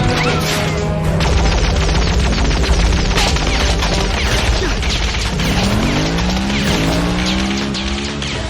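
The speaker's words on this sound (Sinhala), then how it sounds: "මේ මිනිස්සු අපිට මොකටද මේ විදිහට වෙඩි තියන්නේ?" Gunfire erupts in a dramatized scene, sharp cracking bursts ringing out over a loud, continuous roar of engines and commotion, with no clear speech.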